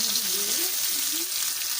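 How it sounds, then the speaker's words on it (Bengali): Potatoes frying in oil in a pan give a steady, dense sizzling hiss throughout, with a faint voice low underneath. "আর এদিকে আমি আলু ভাজতে বসিয়ে দিয়েছি।"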